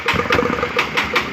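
A Honda CB150R motorcycle in poor condition, running rough and burning too much fuel, idles close by with irregular pulsing throttle blips and an uneven, sputtering engine note.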